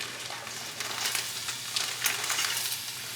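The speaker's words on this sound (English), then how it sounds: "let this saute for about 10 minutes until these veggies soften a little bit" Chopped vegetables and green beans sauté in a pot, giving a soft crackling sizzle with bursts of stirring clatter.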